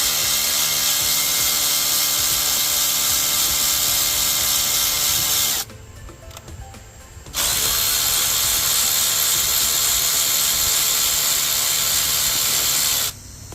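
A power tool whines steadily while removing 8mm valve cover bolts on a Dodge SRT4 engine, pausing for about a second and a half before resuming and then cutting off.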